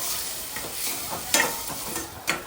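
A chilli and curry-leaf paste is stirred into Kurnool-style ugani in a pan, giving close, steady scraping and mixing with a few sharper spoon strokes against the metal and no talking.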